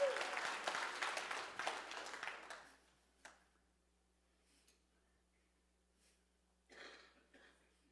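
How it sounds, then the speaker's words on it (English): A church congregation claps for a few seconds before the applause fades into near silence, broken by an occasional cough in the room. "If you guys want to clap that you're here, you go right ahead."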